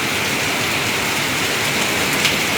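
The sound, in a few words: heavy rain with big raindrops falling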